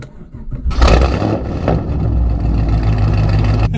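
A 5th-generation car's LS3 V8 with a six-speed manual cranks briefly, then fires with a loud deep roar that settles into a steady, rumbling idle close by.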